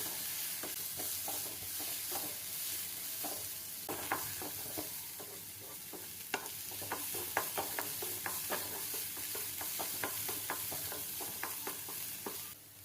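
Onions sautéing in a pan for garlic chicken, a steady close sizzle broken by repeated clicks and scrapes of a spoon stirring through the pan, with no talking.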